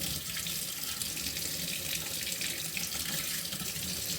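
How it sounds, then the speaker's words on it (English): Hot water runs from a tap into a sink while dog food is being prepared, a steady, even splashing stream that stays moderately quiet and unbroken throughout. "I'm gonna add a little bit of hot water to this. I'm gonna, tap hot water."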